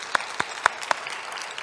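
A few scattered claps ring out at a church service, about four sharp hand claps spaced irregularly over a quiet background, then fading to light patter.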